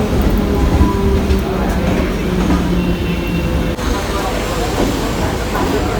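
A train at Wadala Road station in Mumbai rumbles steadily with low, continuous rolling noise close by, a brief clatter near the middle, under faint background voices.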